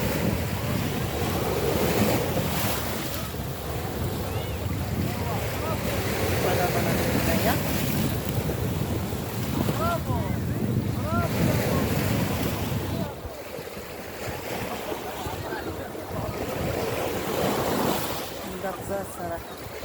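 Sea waves and strong wind roar continuously around a small boat out on the open sea, a dense wash of surf and gusts that dips slightly near the end.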